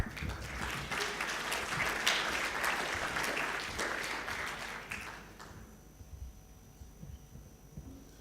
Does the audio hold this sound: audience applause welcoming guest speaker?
yes